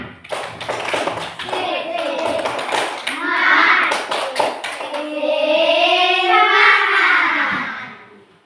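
Children in a classroom perform a rhythmic tepuk semangat clapping chant, sharp patterned claps alternating with sung or chanted voices, loud and close, ending with a sustained group vocal.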